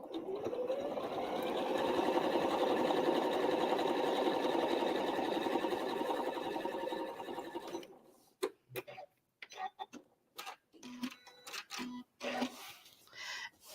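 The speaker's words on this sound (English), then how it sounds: "I'm going to straight line quilt each patch." A sewing machine runs steadily for about eight seconds, straight-line quilting the patches of a scrap-fabric Valentine's place mat. After it stops, a scatter of soft handling clicks and taps follows.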